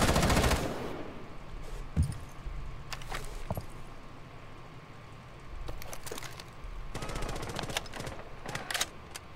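Gunfire in the video game Rainbow Six Siege comes in sharp bursts and scattered single shots over a busy game background, loud and close.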